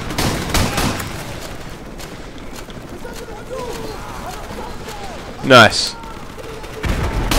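Gunfire from a weapon in Call of Duty: Modern Warfare Remastered: a burst of rapid shots at the start, a sharp louder report midway, then more firing at the end, all over a dense game soundscape, with someone briefly talking.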